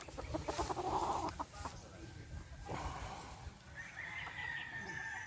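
Gamefowl roosters, Sweater Boston Gilmore 3-way crosses, crowing and clucking at a game farm, several calls overlapping at middle distance over a background of other fowl and farm noise.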